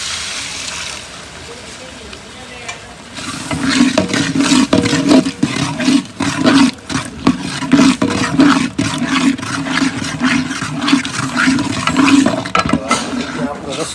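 Water added to a hot pan of ring-cut okra and potato curry, with a loud, sustained sizzle and bubbling that begins abruptly and continues with crackling bursts throughout.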